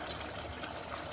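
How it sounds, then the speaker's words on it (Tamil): Soaked jeera samba rice tipped into a pot of water for one-pot ghee rice gives a soft, steady watery swish and trickle, faint and close, with no voices. "இதில் ஊற வச்ச அரிசியை இதோட சேர்த்துக்கோங்க."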